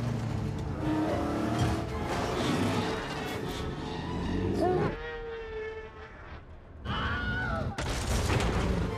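Roaring engines and crashing action from a car chase involving trucks in a monster truck film, loud and busy, with a voice speaking over parts of it and brief quieter gaps.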